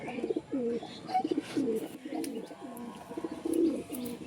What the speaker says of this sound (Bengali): হেভি সুন্দর লাইনের কবুতর আছে